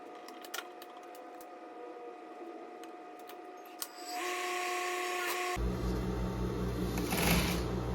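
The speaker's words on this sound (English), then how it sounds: "I already top stitched that part of the skirt, so I'm gonna top stitch the rest" A sewing machine top-stitches a denim skirt made from old jeans, first ticking softly, then running louder and steadier for the last few seconds with no voices.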